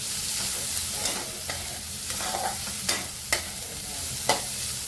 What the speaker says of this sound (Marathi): कारण नुसतं तेलावरती माझे सगळे फ्राय करून घ्यायचं